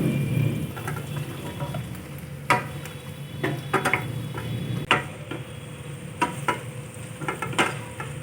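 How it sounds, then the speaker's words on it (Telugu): Bottle gourd pieces tossed into a frying pan with turmeric for kurma, a steady low sizzle under intermittent sharp clicks and scrapes of a spatula against the pan, close and without talking. "ఇప్పుడు ఆనపకాయ ముక్కలు వేస్తున్నానండి"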